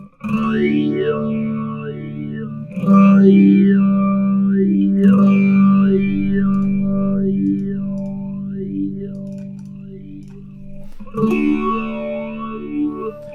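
Sustained distorted guitar notes swept through an Axe-FX III formant filter, the tone morphing in wavering, voice-like cycles with a chorused, slightly echoing sheen.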